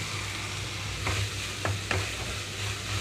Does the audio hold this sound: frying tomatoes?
yes